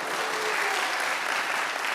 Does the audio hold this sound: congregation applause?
yes